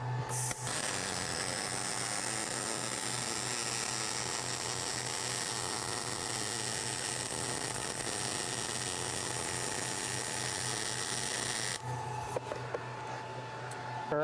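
Welding a bead with the torch held at about a 30-degree angle and dragged toward the welder, a steady buzzing, hissing arc that runs evenly for about twelve seconds, then cuts off abruptly.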